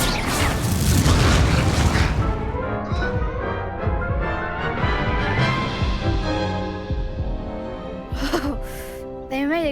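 An Incendio fire spell in a Harry Potter video game, heard as a loud booming burst of flame with crackling and whooshing that fades over several seconds and ends in a few brief sharp effects.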